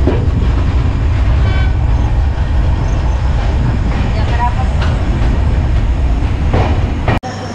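Steady loud rumble and rattle of the Rajendra Nagar–Howrah superfast express running on the tracks, heard from inside the coach, continuous throughout with a brief dropout near the end.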